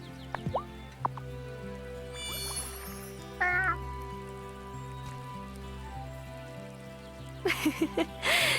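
A cat in the Wylde Flowers video game meows several times over a calm looping musical background, with short bright chimes and game effects scattered between the cries.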